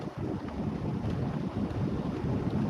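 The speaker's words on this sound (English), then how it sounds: "I'll turn on the heat. Hopefully, it's not too loud." Steady broadband blowing noise, like a car heater fan running on high, continuous and fairly loud with no talking.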